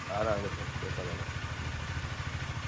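A vehicle engine idles at a hilltop campsite after a cold start outdoors at night, a steady low rhythmic chugging pulse, close and moderately loud, with a brief voice at the start.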